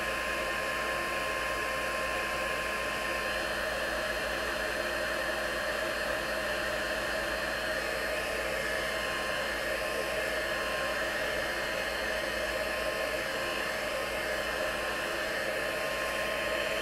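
A heat tool blows a loud, steady whooshing roar without a break, drying watercolor paint on a scrapbook page, with no voices over it.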